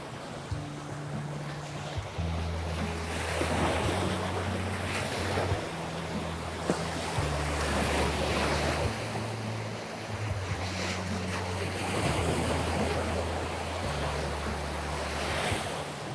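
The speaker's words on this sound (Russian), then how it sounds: "Вот такое шикарное море." Sea waves wash onto the shore in Northern Cyprus, a continuous surging roar with wind buffeting the microphone throughout and no talking.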